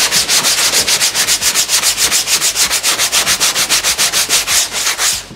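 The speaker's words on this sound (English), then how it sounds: "and then we'll use the DA sander" A DA sander works over motorcycle seat foam with loud, close, rhythmic rubbing strokes, about four per second, sweeping back and forth steadily with no voices.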